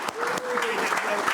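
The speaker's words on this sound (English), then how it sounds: "Please give him a round of applause." A brief burst of audience applause greets a speaker at a fireside chat event, with scattered claps and talk mixed in.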